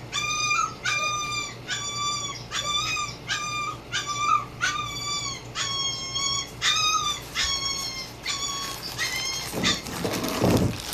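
Several dogs bark and yelp in quick repeated bursts over a steady low hum, carrying on for the whole stretch without letup.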